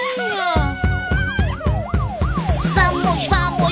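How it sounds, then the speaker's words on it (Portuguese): A police car siren in the PAW Patrol children's cartoon wails in a fast, repeating up-and-down pattern, loud and continuous over a rhythmic backing beat. "Vamos com a sirene ligada."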